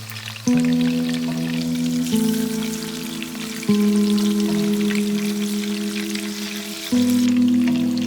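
Fish pieces fry in mustard oil in a pan, giving a continuous crackling sizzle beneath prominent background music.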